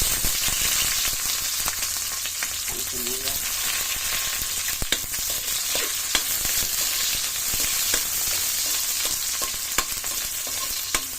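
Garlic and onion sautéing in oil in a pan for pork sinigang, a steady close sizzle with occasional scraping stirs and utensil clicks, no talking.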